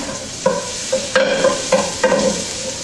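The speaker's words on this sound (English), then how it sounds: "As you hear that sizzle, they're going into about 2 tablespoons of olive oil." Onions sizzle steadily in about two tablespoons of hot olive oil while a utensil stirs and scrapes the pan in several regular strokes, close and moderately loud.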